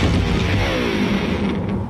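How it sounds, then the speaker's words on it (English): An electric guitar thrown off a 20-story building crashes down with a heavy booming smash, and its strings keep ringing in a jangling drone that slowly fades over two seconds. "An electric guitar."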